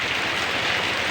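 Steady rain pours at night while a motorbike is washed, a dense, even hiss of drops pattering on surfaces with no pauses.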